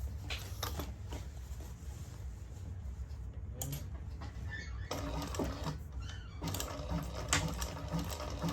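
A sewing machine stitches a carry-all bag in rapid mechanical bursts, with short pauses between runs of stitching, close and clear with no voice.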